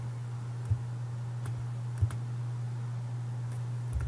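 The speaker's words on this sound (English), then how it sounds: "And then you start typing in your choices." Typing on a computer keyboard produces sparse, soft key clicks, a few isolated taps spread over a few seconds, heard faintly over a steady low electrical hum.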